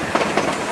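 A single Cumbres & Toltec narrow-gauge steam locomotive heading downhill from Cumbres Pass gives a brief, steady, close rumble of rolling wheels and rail noise with faint rhythmic clacks and no voices.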